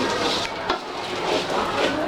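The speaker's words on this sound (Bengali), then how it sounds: "আপনারা শুনতেই পাচ্ছেন একটা ঝনঝন শব্দ হচ্ছে, তার মানে আমার চাল আর ডাল ভাজা হয়ে গিয়েছে" Rice and lentils frying in hot oil in a pan for bhuna khichuri, giving a steady, close crackling sizzle with stirring scrapes throughout and no talk.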